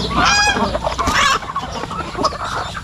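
Farm ducks jostle at feeding time, a close, loud flurry of honking quacks and clucky calls overlapping continuously with no talk.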